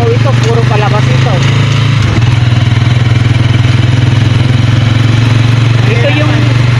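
Motorcycle engines drone steadily on a crowded one-way street beside a busy mall, a constant loud low hum with occasional clatter while people talk over it.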